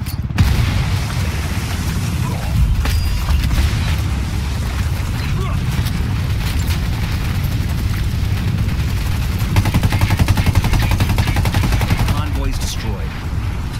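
Dense, continuous gunfire with booming grenade blasts from a convoy ambush in Ghost Recon Wildlands, loud and sustained throughout, with a player's voice now and then over the shooting.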